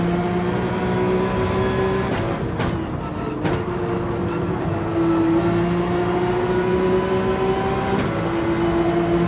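Race car engines in the video game Gran Turismo 7, a steady droning whine with shifting pitch held loud throughout, alongside a Porsche, with a few brief clicks and thumps over the engine note.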